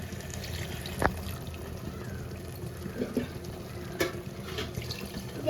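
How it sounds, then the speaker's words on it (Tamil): Water poured into a mixer grinder jar to rinse it in a home kitchen while a chicken kurma is being made, a steady close splashing rush with a couple of brief clinks and no talking. "ஃபஸ்ட்டு மிக்சி ஜார் வாஷ் பண்ண தண்ணி ஊற்றிக்கலாம்"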